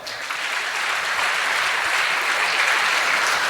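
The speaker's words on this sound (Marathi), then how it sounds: "सरांच्या स्टाफसाठी जोरदार टाळ्या वाजवा" Steady, dense applause from an audience at a Marathi public felicitation event, holding at an even loud level from start to finish with no talk over it.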